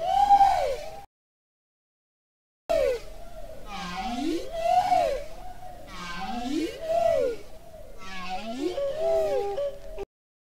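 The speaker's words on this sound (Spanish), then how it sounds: "Acaban de confirmar que esta otra ballena, la ballena boreal de Groenlandia, hace jazz. Y suena así." Song of a bowhead whale, the Greenland right whale, in a series of long rising and falling moans and whoops repeated in a slow rhythm after a brief gap, clear and close with no talking.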